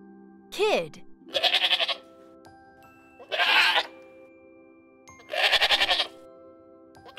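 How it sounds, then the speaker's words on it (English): A kid, a baby goat, lets out four distinct bleats spaced a second or two apart, each quavering and close, with quiet gaps in between. "Baby goat is called a kid."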